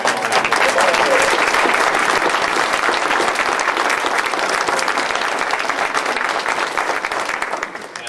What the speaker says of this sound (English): I just want to give him a round of applause.